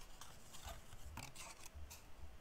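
Scissors cut through material in a quiet series of short, rasping snips spaced irregularly, close and faint with no talking.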